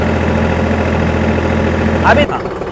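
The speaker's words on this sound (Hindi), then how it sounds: "इंजन आरपीएम 1840 रख रहा हूँ और पीटीओ में पीछे आपको 540 मिल रहे हैं।" Tractor engine held at 1840 rpm driving the PTO at 540, a steady mid-pitched running drone that cuts off abruptly near the end, followed by a brief quieter tail.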